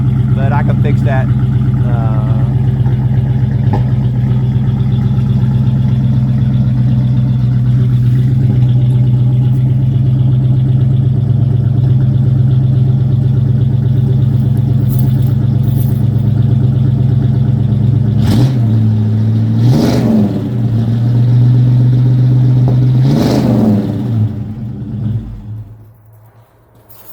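A 1984 GMC truck's Chevy 305 V8 idles with a loose, rumbling, crooked exhaust, then revs up sharply a couple of times near the end before cutting off.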